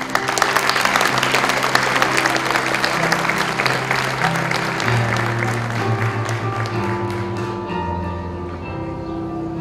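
An audience at a 2018 school graduation ceremony applauds the graduating students with steady, continuous clapping. Sustained musical tones play underneath, and the clapping softens gradually toward the end.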